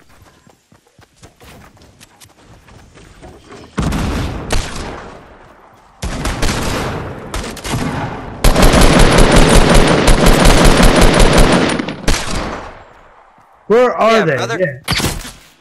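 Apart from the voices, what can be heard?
gunfire from enemies shooting in the video game Fortnite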